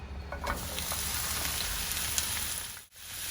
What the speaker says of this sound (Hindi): इसमें मैं डाल रही हूँ 1 टेबल स्पून ऑयल। आप ऑलिव ऑयल या नॉर्मल वेजिटेबल ऑयल का इस्तेमाल कर सकते हैं। अब मैं इसमें ऐड कर दूँगी हमारी तीनों बेल पेपर्स